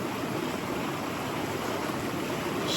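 A pot of water at a hard rolling boil for pasta, heard as a loud, steady, close-up roar of bubbling with no pauses and no talking.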